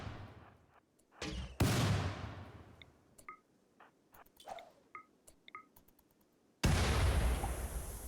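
Grenade blasts and gunfire in the RimWorld video game: a burst of sharp impacts, a big booming explosion, scattered pops and chirps, then another loud rumbling blast near the end.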